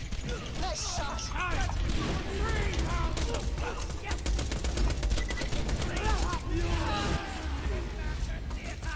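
Gunfire in the Borderlands 2 video game rattles in rapid bursts alongside mechanical clatter, mixed under steady talking voices throughout.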